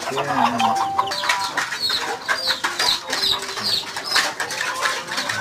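Busy chorus of chicks peeping and chirping up close, overlapping high calls and some clucking from poultry, with a person talking in the background.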